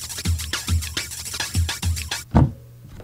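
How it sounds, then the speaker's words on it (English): A short drum loop with punchy low kicks and crisp, busy hits, ending on a heavier accented thump. "It's a drum loop."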